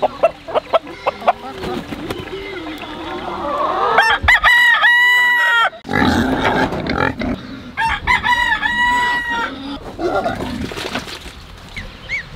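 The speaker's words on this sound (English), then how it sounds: "Our little chicks keep getting out." Chickens clucking and a rooster crowing loudly at a barn, with several drawn-out crows close by amid busy clucking and scratching, no speech.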